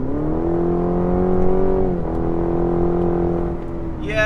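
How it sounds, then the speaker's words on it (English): A 2020 Cadillac CT4 compact luxury sedan revs under acceleration, a steady tonal engine drone with induction noise that holds, dips slightly, then continues, heard from inside the car with no talk. "here I'll step on the gas for you can see if you can hear that sound of the engine"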